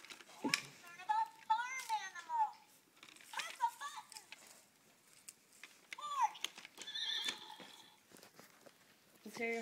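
A voice imitates a horse's whinny with wavering, rising and falling cries, close and clear, mixed with other children's chatter.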